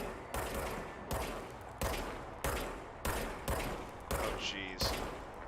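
Gunfire in the video game Control, a series of loud, evenly spaced heavy shots about every three quarters of a second, each with a decaying tail, close and prominent.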